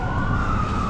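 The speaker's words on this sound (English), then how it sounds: "Ambulances." An ambulance siren wails steadily and loud on a city street in Vancouver's East Hastings area, filling the whole moment without any talk.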